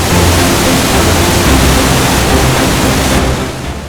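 Rhine Falls in Switzerland, the country's most powerful waterfall, roars as a dense, steady wash of close water noise that eases slightly in the final moment.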